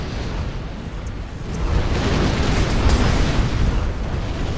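A nuclear missile strike in the real-time strategy game Command and Conquer Generals Zero Hour, heard as a loud, sustained roaring explosion and rumble that swells midway and stays dense and powerful throughout, with no talk.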